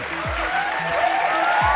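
Audience applause welcoming dancers onto the stage at a Bhojpuri televised dance competition, steady dense clapping throughout with loud music tones and swooping effects layered over it.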